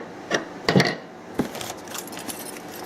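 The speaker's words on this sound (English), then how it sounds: "Sounds like some screws." Small screws rattling inside packaging from a Yihua 853D soldering rework station being unboxed, several quick close metallic jingles and clicks, the loudest near the start, then softer scattered rustling.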